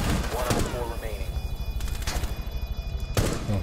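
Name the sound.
gunfire, tactical shooter video game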